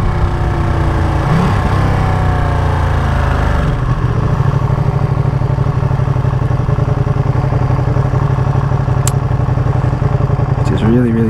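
A 2023 limited edition Ducati Panigale V2 Troy Bayliss motorcycle engine drones steadily and close while riding, with a gear change partway through and a constant loud rumble.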